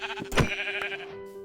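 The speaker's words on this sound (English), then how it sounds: "ooh, we have a sheep" A sheep bleats in the Minecraft video game, one short wavering call in the middle of the clip with faint game sounds around it.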